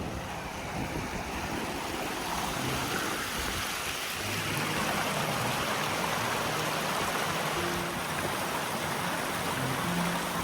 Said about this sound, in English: And there you can hear the river.